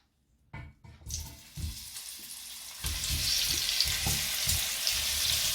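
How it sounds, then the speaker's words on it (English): Vegan chicken substitute hits hot olive oil in a pan and sizzles loudly, a steady frying hiss building after a few clattering knocks as pieces are dropped in, with no talking. "Now you pour in your olive oil, and then you take your chicken like and then put it inside."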